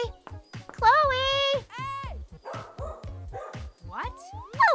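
A dog yips and barks in a cartoon scene, with a voice speaking over the barks, whining and pitch-sliding yelps, and rhythmic clip-clop knocks running underneath throughout.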